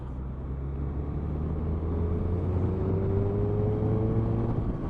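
A 2021 Suzuki Hayabusa ridden in fifth gear at about 30 mph on a wet road gives a steady low engine drone. Its tone climbs gently as it pulls, under a constant rush of wind.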